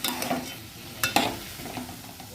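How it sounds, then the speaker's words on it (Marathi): Washed bottle gourd is sautéed with lentils in a pan, a soft sizzle broken by several sharp spatula scrapes and knocks against the pan, close up. "स्वच्छ धुवून घेतलेली दुधी टाकायची तेही व्यवस्थित परतून द्यायचं आपण"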